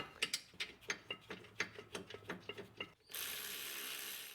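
Close, loud ratchet clicking in a quick run of about a dozen strokes as the caliper bolts are tightened on the rear brakes of a 2013–2017 Subaru Crosstrek, followed by a steady broadband hiss.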